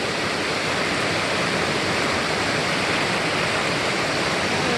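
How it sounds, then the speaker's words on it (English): Steady, loud rushing roar of a waterfall in Lower Eldridge Hollow, Arkansas, a broad unbroken wash of falling water close by, with a brief spoken remark nearly buried under it. "there's another waterfall up there, and the main creek here."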